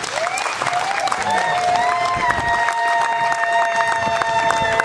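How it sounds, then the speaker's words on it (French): Guests at a customary wedding applaud steadily, a sustained wash of clapping from a crowd, with music tones ringing through underneath the whole time. "je voudrais que vous puissiez applaudir pour cette vaillante dame qui nous a bénis"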